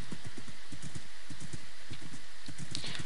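Horses in a survival video game trot along in a steady, rapid clip-clop of hooves, loud and continuous with a faint whinny-like tone near the end, no talk over it.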